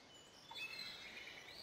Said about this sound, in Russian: Ох, птички поют